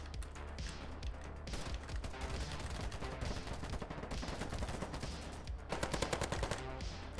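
Sustained rapid automatic gunfire from an AK-74M in the first-person shooter Ironsight, dense rattling bursts with brief gaps, steady and close, with faint distant shots mixed in.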